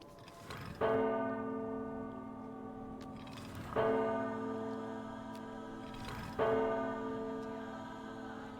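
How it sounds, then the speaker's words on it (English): A bell in the video game Myst IV: Revelation tolls three times at even intervals, each deep, resonant strike ringing out and slowly decaying, heard clearly with no talk. "Three times the bell tolls."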